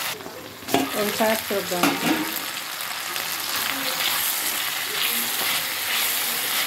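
Food sizzles and fries in a pan while a utensil scrapes and stirs through it, with clattering strokes early on before settling into a steady hiss, and a person speaks briefly at the start.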